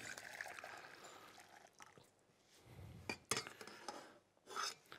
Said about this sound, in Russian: Значит, этот бульон тоже в свободный сотейник. Сливаю.